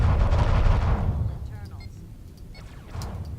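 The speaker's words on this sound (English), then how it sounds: "All weapons! Fire!" Starship weapons fire off in the space combat game Starfleet Command, heavy booming low rumbles at first that fade into scattered bleeps and zaps, with a second burst near the end.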